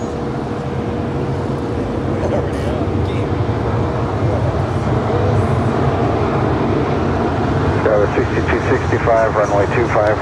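A heavy jet airliner rolls down runway 25 left at LAX on its takeoff run, making a loud, continuous broadband roar. Voices speak over the engine noise throughout.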